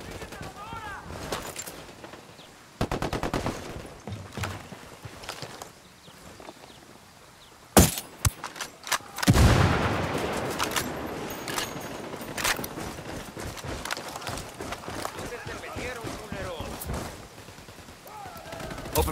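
Gunfire in the shooter Ghost Recon Wildlands: a long firefight of repeated rifle bursts and single cracks, loud and close, with footsteps and occasional voices mixed in.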